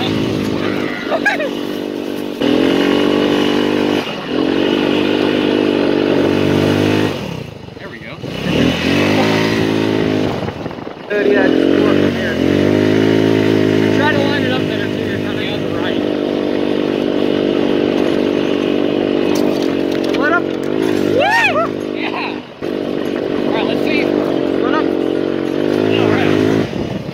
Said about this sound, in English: My first time driving a go-kart.